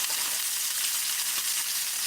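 BLT bacon fries in a cast-iron Griswold Colonial breakfast skillet, sending up a dense, loud, continuous sizzling hiss without pause.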